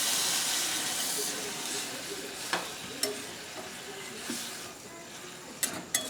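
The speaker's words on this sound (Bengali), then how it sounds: "এবার আমি পরিমাণ মতো জল দিয়ে দিলাম" Water poured onto oil-fried spice masala in a pan for a prawn and taro-stem curry gives a loud steaming hiss that slowly fades, with a few clinks of a utensil against the pan.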